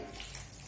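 Steady broadband watery rush of water being poured into a pot of simmering jackfruit curry, close and continuous, with no talking.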